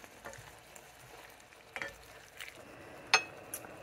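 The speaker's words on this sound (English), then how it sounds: "we just added the beef broth in the can of diced tomatoes, and we're gonna stir to mix this together" A spoon stirs chicken marengo in a pot after beef broth and canned diced tomatoes go in, giving quiet scraping and gentle sizzling with a few soft clinks, including one sharper knock near the end.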